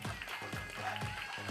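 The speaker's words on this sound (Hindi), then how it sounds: "तालियां।" Game show studio audience applauds, a short burst of rhythmic clapping with a few louder periodic claps, fairly faint and steady throughout.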